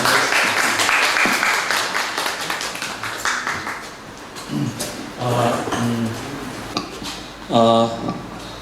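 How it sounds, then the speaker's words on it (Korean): Warm audience applause greets a museum director arriving to give a talk, loud and full at first, then thinning out, with voices and a few louder sounds breaking in near the end. "뜨거운 박수로 관장님 모시겠습니다."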